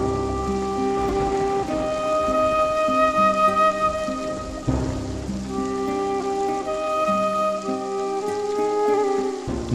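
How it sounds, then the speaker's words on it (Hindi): Heavy rain pours steadily outside a cottage, a dense wash of drops under sustained tonal music, with a brief swell near the middle and no voices. "बारिश बहुत तेज है"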